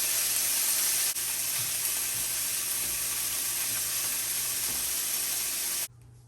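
Beef steaks searing in a hot pan give a steady, close, bright sizzle that runs evenly for several seconds and then cuts off abruptly near the end.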